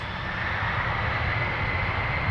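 An El Al Boeing 767-300ER on its takeoff roll on runway 23 at Toronto Pearson gives a steady, loud jet-engine roar with a broad rumble and a constant high whine, and no voices are heard.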